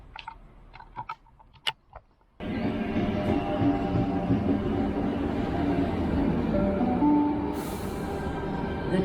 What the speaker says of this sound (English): On platform 1, the next train does not stop at this platform.